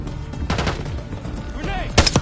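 Gunfire from the video game Call of Duty: Black Ops 6 on a Veteran-difficulty campaign mission, with bursts of rapid shots and a sharp loud blast near the end, mixed with combat shouting.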